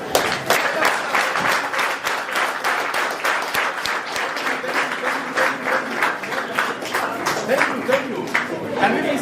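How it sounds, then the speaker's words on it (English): Audience clapping steadily for a leader at a mentorship gathering, a dense sustained applause with individual claps audible throughout, loud and close, with some voices mixed in. "Can we clap for the great leader from Binja?"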